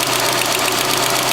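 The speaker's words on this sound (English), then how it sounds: "I'll just rev it up a bit, and then I'll switch it off" A Peugeot 406 2.0 litre engine, freshly rebuilt with a new head gasket, runs at steady raised revs, a loud continuous mechanical drone with a knocking edge and no voices.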